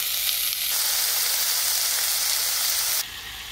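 Bacon sizzles loudly in a frying pan, a steady, bright hiss that shifts slightly in texture partway through, with no talking.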